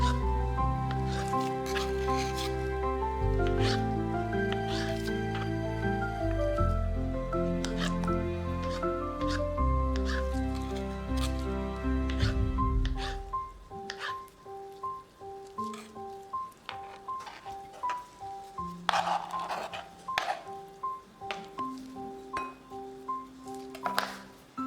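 Boiled or baked beetroot being cut into large cubes on a board, a run of close, crisp knife taps and clicks heard over steady background music.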